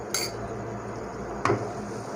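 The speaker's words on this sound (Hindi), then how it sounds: "अब चम्मच से हिलाएंगे इसको।" A metal spoon stirs chickpea curry in a cooking pot, making two brief, distinct clinks about a second apart over a quiet background.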